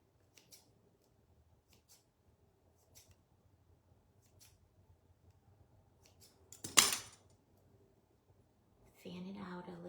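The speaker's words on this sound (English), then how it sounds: "I'm gonna take my scissors and make fringe." Quiet, scattered snips of scissors cutting a paper fringe, small clicks spaced irregularly, with a louder rustle near the end and a voice starting at the close.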